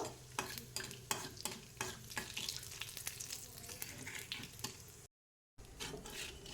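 Steady sizzling of whole cumin and bay leaves frying in hot oil, with a spoon repeatedly scraping and stirring the pan, then a brief dropout near the end.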